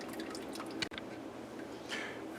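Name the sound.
chicken soup broth dripping through a strainer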